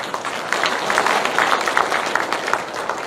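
Crowd applause at a Korean political party campaign committee launch event, a dense steady wash of many hands clapping that holds evenly for a few seconds, with faint voices mixed in.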